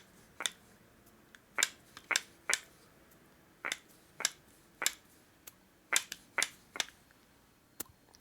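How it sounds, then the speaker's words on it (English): Front master cylinder assembly from a 1982–95 Harley-Davidson is pumped by hand to build pressure, giving about a dozen sharp, snappy clicks at irregular intervals, close and fairly faint over quiet background. "Put your finger over it and see if you can build up pressure."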